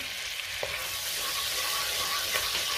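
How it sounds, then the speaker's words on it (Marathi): Green chillies fry in hot oil and butter for fried rice, giving a steady close sizzle and crackle with a couple of faint stirring clicks and no talking. "तेल आणि बटर गरम झाले, त्यात मी हिरवी मिरची घालते"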